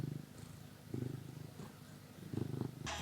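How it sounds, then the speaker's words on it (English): A cat purrs close by in a steady, low rumbling rhythm that swells in soft pulses, ending with a brief rustle. "Can you hear it purring?"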